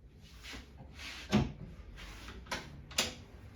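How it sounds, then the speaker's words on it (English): Wooden doors on a Victorian campaign chest are opened up close, giving several short knocks and clunks, with one louder thud partway through and a sharper click near the end. "So, if we open up the doors,"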